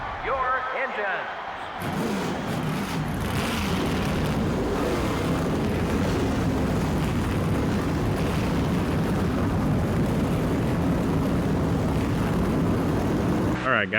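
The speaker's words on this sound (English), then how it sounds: "Gentlemen, start your engines." Stock car engines in NASCAR Thunder 04 roar to life together after a brief quiet start, swelling into a loud, dense rumble that holds steady, with a voice speaking over the noise.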